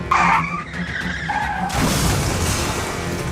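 An out-of-control truck skids and crashes into a shop, overturning as it hits: a loud tyre screech gives way to a harsh, sustained crashing roar of impact and debris.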